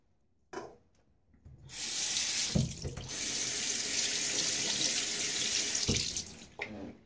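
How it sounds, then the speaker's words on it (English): Tap water runs steadily into a bathroom sink as fingers are rinsed between lathering during a wet shave, the stream starting after a few brief splashes and continuing loud and close for several seconds before cutting off. "Rinsing off my fingers every once in a while"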